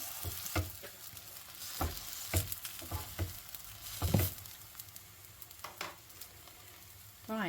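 Wild garlic potato cakes fry in a pan with a close, soft crackling sizzle throughout, punctuated by scattered louder pops and spits at uneven intervals.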